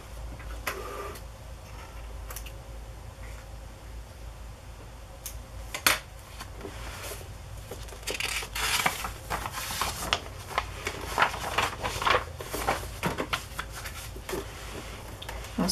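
Hand-sewing a paper pocket onto a handmade journal makes faint, irregular ticks, pokes and soft scratches of needle and thread through paper, close by in a quiet room.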